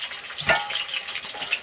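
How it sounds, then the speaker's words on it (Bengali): Bhola fish rubbed with salt and turmeric frying in oil gives off a brief, bright crackling sizzle, with one louder spit of oil amid the steady hiss. "ভোলা মাছ কেটে ধুয়ে নুন হলুদ মাখানো আছে, ভাজতেও দিয়ে দিয়েছি"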